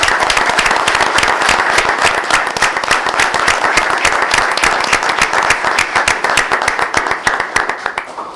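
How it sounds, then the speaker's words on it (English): Audience at a Dunkirk, NY council meeting applauding honorees, a dense, steady burst of many hands clapping close and loud, sustained throughout before slightly tapering at the end. "If we could just give our 6 honorary people a small round of applause for sharing that with us."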